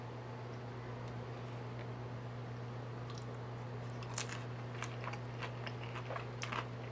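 Someone chews a veggie samosa dipped in ketchup and hot sauce, with soft wet crunches and squishy bites rising near the end over a steady low hum, fairly quiet and close, no talking.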